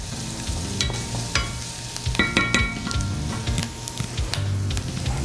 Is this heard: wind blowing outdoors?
no